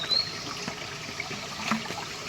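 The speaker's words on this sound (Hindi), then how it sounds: "तो भरते हैं पानी" Cold mountain spring water trickling and splashing steadily as a container is filled outdoors in a hill village, a continuous close running-water sound with small bursts of splashing.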